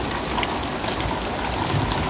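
Heavy, continuous rain pouring onto a rooftop during bad weather, a steady broadband hiss with scattered drop patter, loud and close, with no voices.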